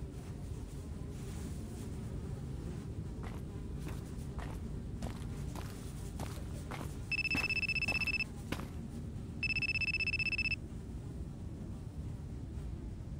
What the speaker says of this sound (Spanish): Me llaman por teléfono.